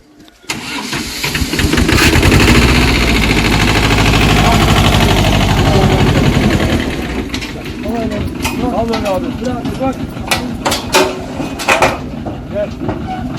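A tractor engine cranks and catches, running loud and steady with a heavy low rumble, then drops to a rougher idle under sharp knocks and other noises at a rural well site.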